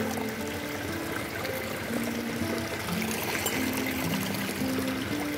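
Very cold, sweet-tasting water at a rail project worksite pouring and trickling in a steady stream, continuous and fairly near, with no talk over it.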